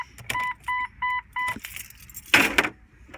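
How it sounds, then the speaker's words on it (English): Car keys jangle briefly and a short burst of metallic rattle follows as they go into the ignition of a 1997–2001 Jeep Cherokee XJ, preceded by a string of evenly spaced electronic chime beeps, all close and clear. "grab your keys, put them in the ignition"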